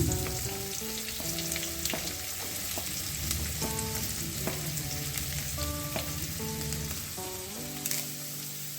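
Garlic, onion and green chilli frying together in a pan for a red spinach stir fry, giving a dense, continuous sizzle close up. Background music with melodic notes plays throughout, and no voices are heard.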